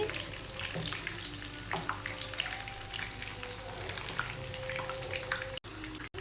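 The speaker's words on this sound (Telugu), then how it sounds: "నెక్స్ట్ 1 బై 1 ఇలా టర్న్ చేసుకుంటూ ఫ్రై చేసుకోవాలండి" Chicken pieces fry in hot oil with a continuous crackling sizzle at moderate level, turned now and then with faint utensil clinks, before two brief dropouts at the end; no talking.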